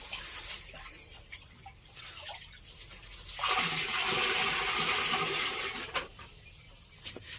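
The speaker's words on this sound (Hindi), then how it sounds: "तो 20 लीटर ये पानी डालेंगे हम।" Water being poured into a homemade liquid fertilizer mix of lentil paste, gram flour and jaggery for vegetables, a continuous gushing splash that starts partway through and runs for a few seconds, fairly close.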